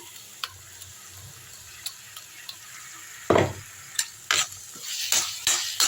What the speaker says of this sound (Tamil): இந்த தக்காளி பேஸ்ட் எடுத்து ஊற்றிப்போம்